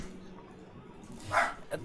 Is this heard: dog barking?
yes